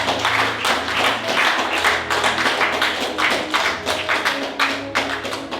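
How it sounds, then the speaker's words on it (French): A church congregation claps during a sermon, hands striking in loose, uneven bursts over a low hum of music or room tone, the clapping close and fairly loud throughout. "Continue à applaudir les gens que je vois."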